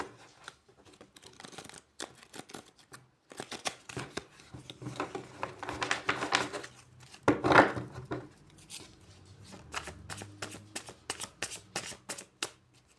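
Tarot cards are shuffled by hand at close range, a run of quick crisp riffling flutters and soft slaps that build, peak, then taper into scattered taps.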